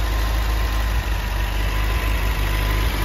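A steady, low idle of a 1977 MGB's 1800 four-cylinder engine with twin SU carburettors, rumbling continuously at close range, with an even throb and no voices.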